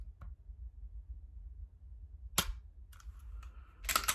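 A sharp dry-fire trigger click from a pistol held in the support hand rings out once, close and crisp, with a few softer mechanical clicks after it in a quiet room.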